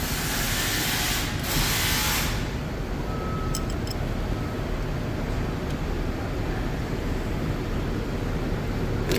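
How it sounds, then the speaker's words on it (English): Ratchet wrench clicking as it turns a nut on an inverted motorcycle fork of a Ninja ZX7R sportbike, a short burst of ratcheting followed by a few faint clicks against a steady background hiss. "All right, we got our wrench on there."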